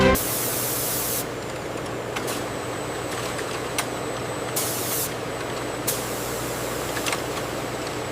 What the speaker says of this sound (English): the hexagonal cedar bodies receive their first coat of primer in a high-tech spray chamber